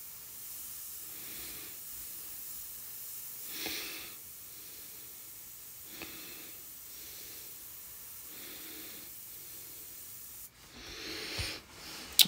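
A vintage Paasche airbrush sprays paint onto paper in a wide pattern, giving a steady soft hiss with several brief louder bursts and a harsher rush near the end, close and with no talk.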